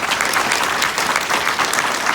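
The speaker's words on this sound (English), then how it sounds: "Would you please give one more round of applause for Bob Menendez?" Audience applause for Senator Bob Menendez at a Ukrainian American cultural center, a dense, loud and steady wash of many hands clapping throughout.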